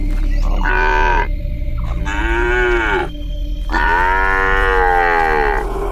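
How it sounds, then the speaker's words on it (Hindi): A calf moos loudly and repeatedly, three long drawn-out calls close by over a steady background hum. "ठीक उसी वक्त पीछे से एक बछड़े की आवाज सुनाई देती है।"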